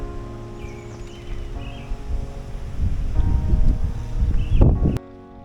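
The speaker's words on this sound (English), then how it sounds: "Fucking wind, man." Gusty wind buffeting a microphone outdoors, rising and swelling over a few seconds before dropping away abruptly.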